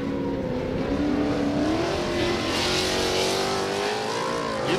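A Pro 2 short-course race truck engine drones at a distance, its pitch climbing and dropping as it shifts gears through turns, with a continuous rushing noise underneath.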